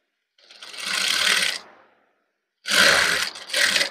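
A sewing machine stitches ready-made lace piping onto a blouse in two close, whirring runs, the first about a second long and then a short pause and a stuttering second burst.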